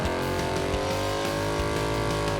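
Car engine revving through a Heartthrob performance exhaust with an H-pipe, as fitted to a Mustang, giving a steady loud, deep rumble with harmonic drone held throughout, no voices.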